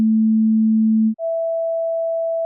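A steady low 220 Hz sine tone holds for about a second, then switches abruptly to a higher 660 Hz sine tone that continues at the same level.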